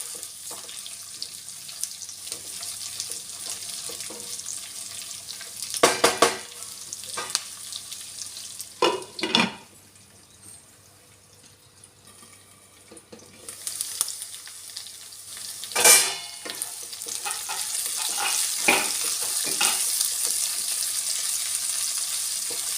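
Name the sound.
ivy gourd (dondakaya) frying in oil with onions, stirred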